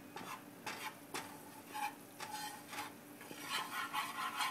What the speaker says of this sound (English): And keep stirring it around real good